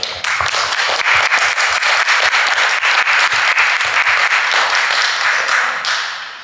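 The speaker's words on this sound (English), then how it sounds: "But let's give these folks a round of applause." Audience applause closing a 2015 candidates forum in Grand Ronde: dense, steady clapping from a roomful of people that holds for several seconds before tapering off at the end.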